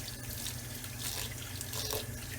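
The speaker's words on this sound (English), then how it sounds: "And we're just going to run just a little bit of water onto our rice." Water runs from a kitchen tap onto freshly cooked, drained rice, a continuous close hissing splash with slight swells in intensity throughout.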